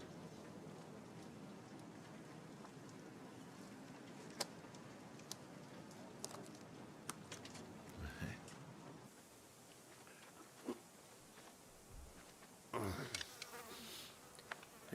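Flies buzz faintly around a meal of cold soup in a Gallipoli war film scene, a thin continuous drone with occasional closer passes and soft clicks, fairly quiet overall.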